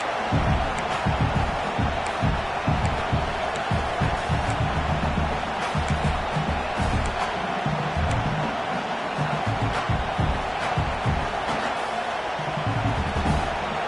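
A football stadium crowd roars with steady, dense cheering and noise throughout, loud and continuous with a commentator's voice over it.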